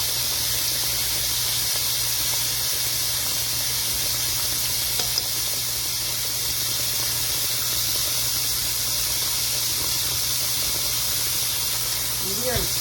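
Pork chops frying in a pan, a loud, steady close-up hiss and crackle of sizzling fat running continuously throughout, with no pauses.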